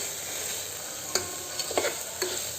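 Green gram sprouts fry with chilli powder and rock salt in a pan, a steady hiss of sizzling broken by a few sharp spatula scrapes and stirs.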